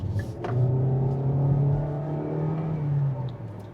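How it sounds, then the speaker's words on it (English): A 2026 Kia Seltos EX naturally aspirated engine revs up and accelerates, its steady drone climbing slightly in pitch, loud and close, with a brief squeal of wheel slip near the start. "Honestly, fantastic powertrain. And it's a naturally aspirated engine"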